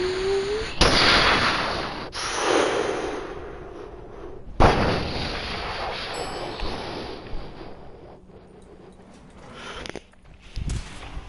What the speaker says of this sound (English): Alpha 1-1, we're taking fire!